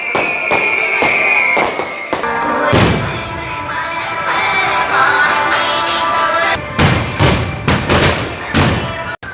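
Firecrackers burst during a church festival chariot procession in Mathagal, sounding as loud, continuous crackling with heavy booming blasts. A dense flurry of sharp cracks comes near the end.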